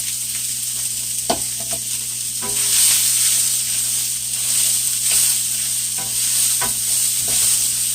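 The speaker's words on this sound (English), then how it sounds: "we're going to saute our onions here" Onions sauté in a pan for a vegetable, beef and deer meat soup, giving a steady close sizzle with a few soft scraping stirs breaking through the hiss.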